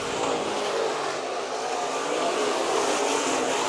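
IMCA Modified race cars in a heat race on a speedway, engines roaring in a steady, distant wash of continuous noise without clear passes, no voices.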